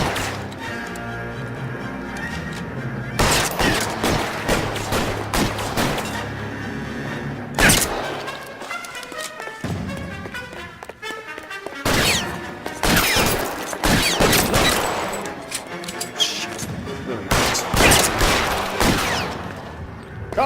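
Suppression gunfire in the L.A. Noire video game: dense bursts of rapid automatic fire and booming shots in several loud clusters, with short lulls between volleys.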